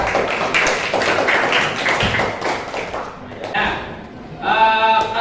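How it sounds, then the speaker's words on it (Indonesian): A classroom of students claps for a classmate, a dense patter of hand claps running through most of the clip with voices mixed in and a brief pause before a final burst. "Tepuk tangan buat Kansa ya."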